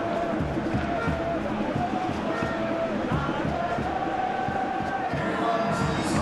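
Stadium crowd at a World Cup 2026 video game match between Ghana and England, a dense continuous roar of massed voices with steady chanting and swelling, heard at a distance throughout.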